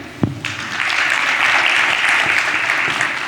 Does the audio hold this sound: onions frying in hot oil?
no